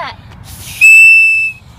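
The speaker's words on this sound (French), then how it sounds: "Siffle!" A single sharp, shrill whistle blast at a football match rings out for under a second, loud and close, after some faint background murmur.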